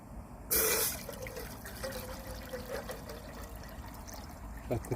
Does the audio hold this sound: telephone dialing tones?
no